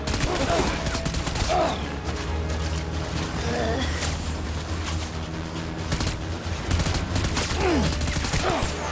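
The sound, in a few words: gunfire in the video game Death Stranding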